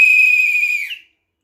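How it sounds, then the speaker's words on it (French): A supporter's whistle gives one sustained, piercing, high-pitched blast at close range. It holds steady for just under a second, then cuts off, leaving silence. "à chacun son sifflet"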